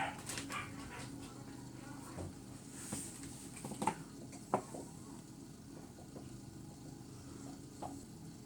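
A small dog barks and whimpers indoors in a kitchen, giving a few sharp yips and whines spread through a noisy room with faint background sounds.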